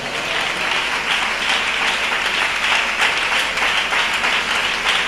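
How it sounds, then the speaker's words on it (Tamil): Dense, steady applause from a church congregation at a Tamil Christian service, many hands clapping continuously and loudly for about five seconds with no speech over it. "கைதட்டுங்க."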